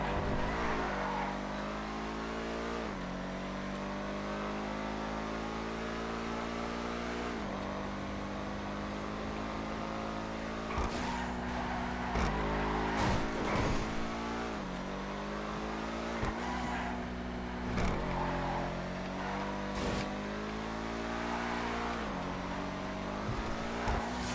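Schlagen GT sports car in the GTA FiveM racing game, engine revving and shifting through gears continuously with repeated throttle blips, loud and close throughout with no talk.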